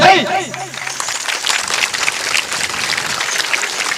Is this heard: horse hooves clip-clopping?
no